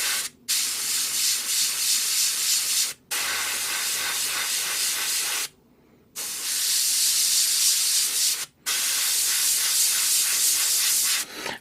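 An airbrush sprays primer onto small parts of a 1/72 scale Hasegawa model kit in several steady hissing bursts separated by short pauses, close and fairly loud with no talking.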